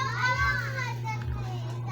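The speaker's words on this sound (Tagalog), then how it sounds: "ingay maingay yung mga bata naliligo sa swimming pool" Noisy children play and splash while bathing in a swimming pool. Their high, overlapping shouts and chatter sit close over a steady low hum.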